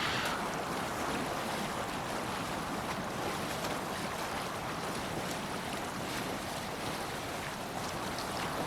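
A sailing boat crossing the open sea in Assassin's Creed Valhalla, with a steady, continuous wash of waves and wind rushing past at moderate volume and no pauses throughout.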